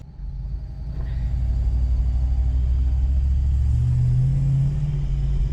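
A Toyota Land Cruiser Prado with a supercharged 1UZ-FE V8 engine, M90 supercharger and MegaSquirt ECU hums low and steady as it drives, rumbling louder and rising slightly in pitch toward the end.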